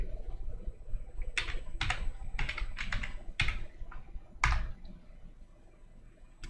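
Typing string inputs on a computer keyboard while writing a Java program, a run of distinct key clicks in irregular bursts, close and moderately loud, with no voice.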